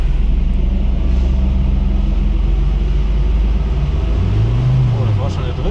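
An Opel Manta on a dynamometer pulls hard in second gear, its loud, steady engine roar holding for several seconds before the pitch sweeps up and back down near the end, with a voice briefly over it.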